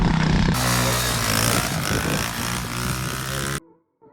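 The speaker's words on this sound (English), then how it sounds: "You're doing a burnout." A pit bike revs hard through a burnout in snow during a storm in Canada, a loud continuous engine roar with wheelspin that drops off abruptly near the end, with brief voices under it.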